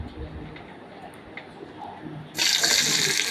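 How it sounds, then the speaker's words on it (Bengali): Mola fish being washed under running water: low, muffled splashing and handling noise at first, then a tap gushes on, giving a loud, steady broadband rush of water for the last second. "মাছটা ধুয়ে পরিষ্কার করে নিচ্ছি।"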